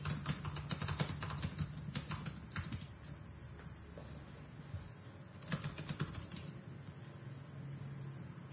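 Rapid clattering keystrokes on a computer keyboard, typed in bursts with brief pauses, close and fairly quiet, with no voices.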